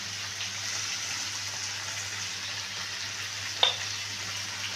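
Fish curry cooks in a pan, a steady low sizzle running throughout, with a single short scrape or clink from stirring partway through and no talking.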